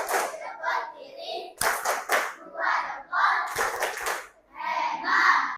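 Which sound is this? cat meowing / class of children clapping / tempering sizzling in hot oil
class of children clapping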